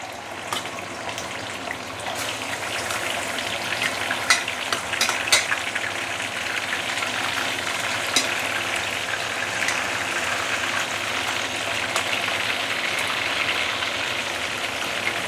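Spare ribs frying in medium-hot oil give a loud, dense, steady sizzle with frequent crackles and pops throughout, heard close up with no talk.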